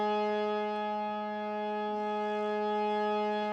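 A single sustained harmonium note, pa, the fifth of the scale, drones steadily with rich, reedy harmonics and a slight swell from the bellows, held alone for a few seconds.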